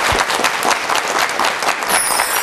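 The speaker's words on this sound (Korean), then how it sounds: "힘찬 박수로 청해 듣겠습니다" Studio audience clapping for a televised lecture, a steady dense round of applause from a sizable crowd, even in loudness and continuing throughout.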